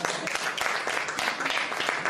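Audience applause during a stage magic and comedy competition act, a continuous wash of many hands clapping at moderate volume with no voices over it.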